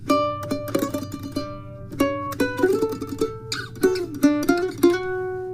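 Plucked string tremolo in triplet groups on long notes of a waltz phrase, with bright repeated picking in short bursts and clear pauses between phrases, played alone.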